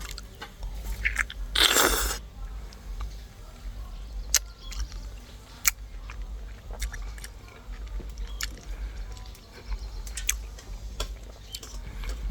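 Sweet fresh fruit grown around a home being bitten and chewed, with one loud crunching bite near the start followed by softer chewing and scattered clicks.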